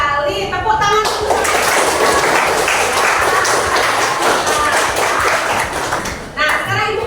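A school class claps hands together in a dense, lively burst of clapping lasting several seconds, with voices at the start and end.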